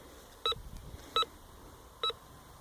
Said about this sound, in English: it's ringing up 3 different things on this Bounty Hunter